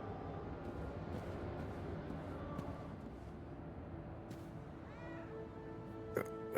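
A cat in Indiana Jones and the Great Circle gives a few faint meows over a steady low ambient hum, with a slightly louder sound near the end.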